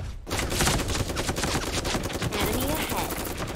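Rapid bursts of automatic gunfire from the mobile battle royale game Super Mecha Champions, loud and nearly continuous throughout, with no talk over it.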